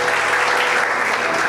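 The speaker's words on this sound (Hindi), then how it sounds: "I think you should give the Lord a big hand." A church congregation applauding during a Sunday sermon, a short burst of loud, dense clapping from many hands, close and steady throughout.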